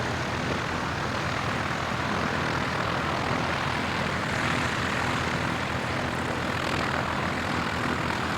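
A vintage propeller aircraft comes in to land at an evening air display at Shuttleworth, a steady, loud engine roar that holds close and constant throughout with no voices.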